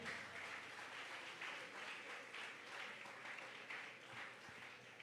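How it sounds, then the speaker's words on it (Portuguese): Applause from a prayer gathering audience rolls on steadily, a soft, dense wash of clapping that stays even and fairly distant throughout. "Vamos dar um aplauso para Ezequias."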